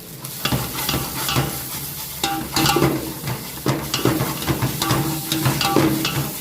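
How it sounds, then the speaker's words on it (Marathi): Masala with kasuri methi roasting in a pan for a vegetarian Kolhapuri white rassa, giving steady close sizzling and frying with repeated stirring scrapes throughout. "असा मसाला मस्तपैकी भाजून घ्यायचा त्याच्यानंतर आता त्याच्यामध्ये जाणार ही आपली कस्तुरी मेथी"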